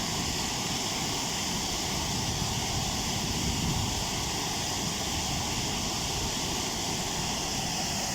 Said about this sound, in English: Isn't that a lovely waterfall, isn't it?